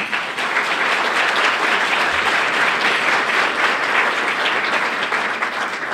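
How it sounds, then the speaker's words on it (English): Sustained audience applause fills a room at the United Way of Greater Plymouth County annual meeting, steady and dense for about six seconds with no talking over it. "Please give them all another round of applause."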